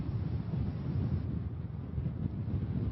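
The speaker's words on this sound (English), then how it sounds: "today you can see and probably hear the wind picking up through my microphone" Wind buffets a reporter's microphone on the coast near the Neuse River and New Bern, a steady low roaring rumble that fills the clip without letup.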